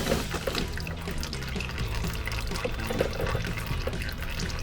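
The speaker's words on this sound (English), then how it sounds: "we'll just let that drain for a little bit and come back to it when it's done draining" Fluid draining from a Lotus race car with manual steering, a steady trickling and splashing pour that runs continuously at moderate level nearby.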